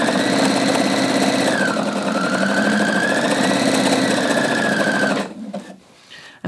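A sewing machine runs steadily at close range, stitching Eloflex thread along Nike Dri-Fit pants with a continuous whirring motor drone for about five seconds. It then stops abruptly, leaving a brief quiet stretch.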